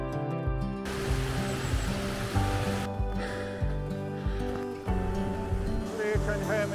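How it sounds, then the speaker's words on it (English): Rushing water near Blea Tarn in the Lake District fells makes a continuous broadband roar, steady and fairly loud, with a voice talking over it. "Blea can hear me above the roar of the water."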